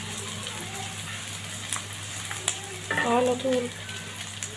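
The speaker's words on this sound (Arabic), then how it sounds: "في الحلة على النار هنبدأ نضيف معلقتين زيت عشان نبدأ بيهم او نزودها شوية. اول حاجة هنضيفها هنضيف البصل" Onions fry in a couple of spoonfuls of oil in a pot on the stove: a close, continuous sizzle with stirring scrapes, while a voice speaks briefly over it.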